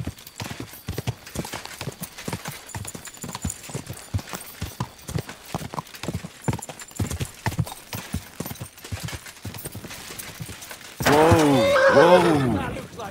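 Horse hooves clip-clop steadily in the game Kingdom Come: Deliverance 2, a brisk close rhythmic clatter lasting several seconds, followed by a loud horse whinny near the end.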